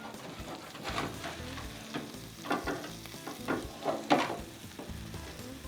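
Inside-out grilled cheese sandwich frying in a pan on medium heat just after being flipped, with a steady close sizzle and a few louder spatula scrapes and bumps near the pan.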